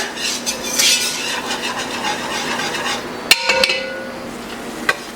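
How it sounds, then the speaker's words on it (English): Whisk stirring flour into melted butter in a pan while making a freezer chicken meal, soft continuous scraping and rubbing with a few sharp metallic clinks of the whisk against the pan near the end. "we're going to keep adding this slowly and whisking it into our butter"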